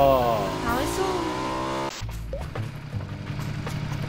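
Car engine in a video game drawing closer from behind with a rising, sweeping motor tone, then cutting off into background game noise while players talk over it.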